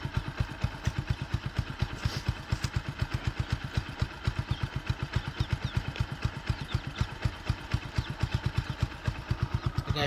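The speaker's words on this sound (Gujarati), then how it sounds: "તો ગાઈસ બાઇક તો ચાલુ જ છે" A motorcycle engine idles close by, a steady, fast, even put-put of exhaust pulses running without pause for the whole stretch.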